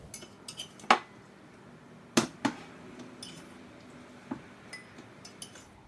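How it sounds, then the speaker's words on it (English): Bacon fat spooned from a pot of stovetop beef bourguignon into a heat-safe bowl: a few sharp metal clinks and scrapes against the cookware, sparse and close, separated by near silence. "So I've managed to spoon out the bacon fat"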